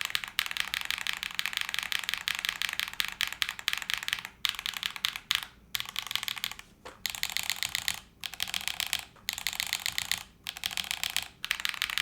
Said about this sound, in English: you can literally hear the bottoming out of some of the switches